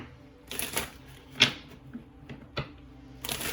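Tarot cards being shuffled in short riffling bursts with soft taps and clicks between them, quiet and close, with no talking.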